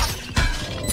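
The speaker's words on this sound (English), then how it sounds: "Turret's destroyed." A turret being destroyed in a Valorant match gives a brief, sharp shattering crash that breaks in the middle of a short moment of dense game noise.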